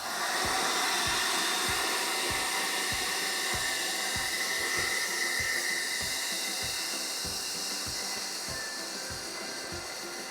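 A hair dryer blows steadily to thaw a frozen refrigerator water line, a close, continuous whooshing hiss that fades slightly toward the end.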